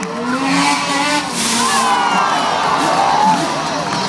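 A loud crowd at a stunt show cheers and shouts continuously, a dense roar of many voices with snowmobile engine noise mixed in, sustained for several seconds.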